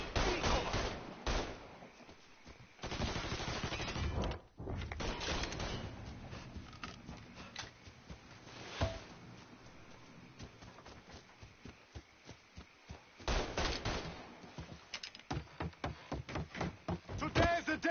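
Gunfire bursts crackle through a shootout in the video game Mafia 3, with irregular clusters of shots that sometimes come in rapid strings, mixed with game noise and shouted voices.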